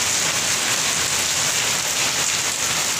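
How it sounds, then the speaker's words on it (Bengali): Heavy rain falling steadily in Jhargram, a dense, continuous hiss of downpour on surfaces, close and loud throughout with no voices. "ঝাড়গ্রামে প্রচুর বৃষ্টি হচ্ছে,"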